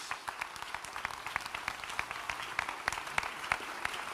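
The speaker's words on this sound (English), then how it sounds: "Let's give her a round of applause" Crowd applauding a survivor of the Mother Emanuel church shooting at a Joe Biden event, steady clapping with many sharp individual claps close by, sustained evenly throughout.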